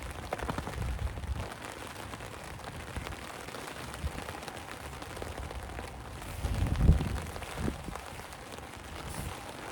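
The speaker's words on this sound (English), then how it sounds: "And it's starting to rain again." Rain falls outdoors near a fishing net. A soft, steady patter of drops continues throughout, fairly faint, with a brief louder swell of splashing partway through and no talking.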